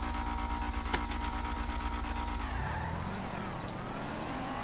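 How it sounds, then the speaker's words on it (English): Car in GTA 5 spinning its wheels: an engine revving hard under a sustained tire squeal, which then fades into lower rumbling engine noise, close and fairly loud. "Wheel spin."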